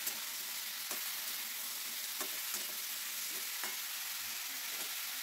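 Vegetables with oil, salt and turmeric are stirred in a pan. A faint, steady sizzle runs throughout, broken by a few soft scraping strokes spaced about a second apart.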